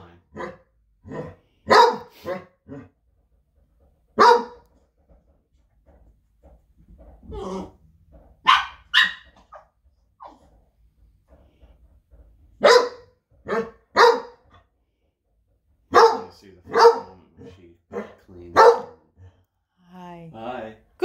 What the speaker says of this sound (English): What dog is that? A bold bark.